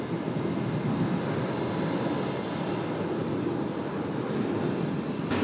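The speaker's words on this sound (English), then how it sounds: "The Qantas A380 just under tow now out of the Intel 1 apron." A Qantas Airbus A380 under tow on an apron at Sydney Airport, heard as a steady, loud, broad rumbling drone that holds constant throughout with no voices.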